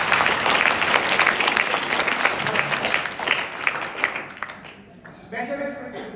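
An audience breaks into loud, sustained applause for Navya Nave at a live gathering, with dense clapping that holds steady for several seconds before thinning out and fading near the end.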